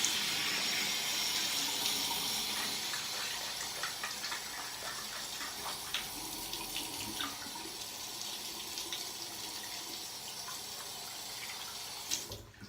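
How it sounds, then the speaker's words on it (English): Tap water runs steadily while a bottle is rinsed out, a continuous gushing splash with small sloshing variations and a brief clatter near the end. "And then I'm going to need to rinse it out."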